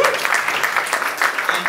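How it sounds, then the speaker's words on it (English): An audience at the Eddie's Attic open mic applauds, a brief burst of dense, even clapping filling the room with speech faintly underneath. "give yourselves a round of applause"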